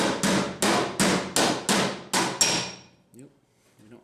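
A hammer strikes a dent against a dolly on a 1971 Chevy Blazer steel body panel, seven or eight sharp metallic blows at a steady, even pace, followed by quieter faint taps.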